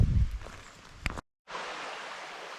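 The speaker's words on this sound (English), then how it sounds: "we found a little creek crossing here off the bat" Small forest creek trickling steadily, a soft broadband wash that briefly cuts out before resuming, with a few rustles and footstep-like thumps near the start.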